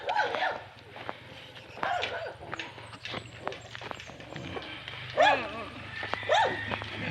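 A dog named Mary gives a few short barks and whimpers close by at a rural relatives' home in the Philippines, while people talk and footsteps move around.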